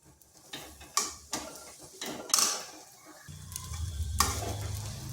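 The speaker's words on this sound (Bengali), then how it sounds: "আঁচটাকে স্লো আঁচে রাখে এইভাবে কিন্তু অনবরত নেড়ে নেড়ে একটা ডো তৈরি করে নিতে হবে।" Potato and semolina dough is stirred in a pan over low heat, with several sharp spoon scrapes and knocks against the pan over a faint sizzle, and a low steady hum toward the end.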